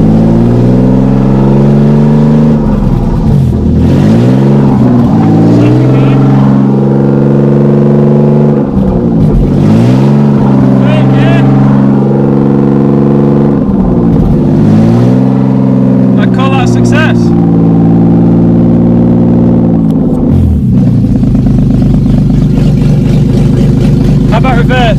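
A BMW E36 with a swapped-in M50 six-cylinder engine runs steadily in first gear, a loud, close engine drone rising and dipping in pitch with repeated surges of throttle, while a person talks over it.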